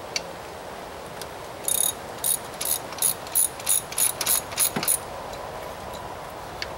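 A ratchet wrench clicks in quick bursts while loosening the belt tensioner on a Chevy Venture, a series of crisp, close pawl rattles over a quiet background.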